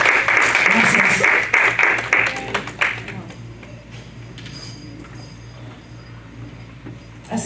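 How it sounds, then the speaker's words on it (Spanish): Church congregation applauding the volunteers at a sermon, a burst of dense clapping for about three seconds that tapers into scattered claps and quiet room noise. "Un aplauso para los voluntarios"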